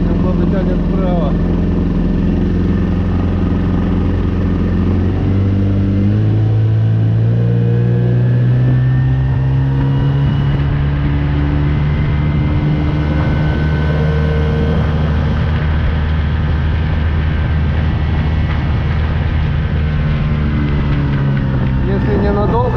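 An old Vikhr outboard motor drones steadily and loudly on a moving boat, its pitch rising and settling in a continuous rumble for the whole stretch, with voices murmuring faintly underneath.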